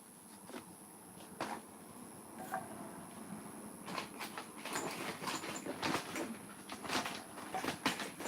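A model train runs along its track on a home layout, with steady rolling rumble and irregular clicks and clacks growing busier toward the end, fairly quiet and with no talking.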